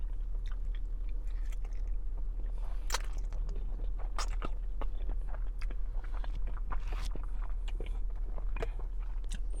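Close, wet chewing and crunchy bites of Red Lobster lobster and thin, thick-bodied noodles in sauce, repeated mouth sounds over a steady low hum, with no talking.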